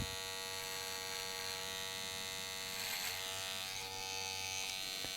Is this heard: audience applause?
no